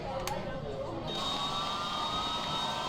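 Airliner jet engines spool up in the Prepar3D v5 flight simulator, a faint rising whine and rushing hum that builds after a brief click, with no speech over it.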